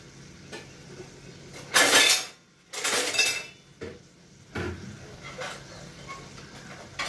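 A lid clatters onto a cooking pan in a few loud metallic clanks and scrapes. Quieter kitchen clinks follow against a low background, and the pan holds an onion egg curry.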